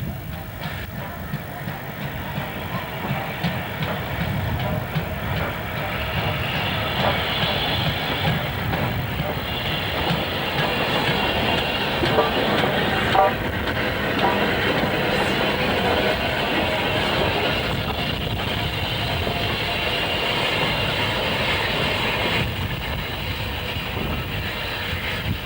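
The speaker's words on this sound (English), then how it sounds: "45428 is captured here, hauling a Pickering-bound train into the station." Steam locomotive 45428 hauling a Pickering-bound passenger train into a station on the North Yorkshire Moors Railway, a steady rumbling train passing close by for the whole stretch, loud and continuous with no talk.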